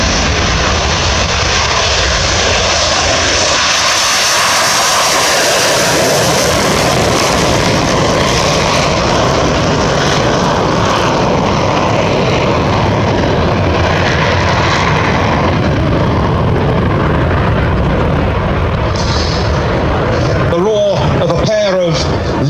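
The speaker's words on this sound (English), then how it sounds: "the Sukhoi Su-27 P1M, known to NATO as the flanker." A Ukrainian Air Force Sukhoi Su-27 P1M fighter with twin Saturn AL31F turbofans roars past at an airshow, a loud continuous jet rumble and howl that swells and fades, with a voice speaking over it.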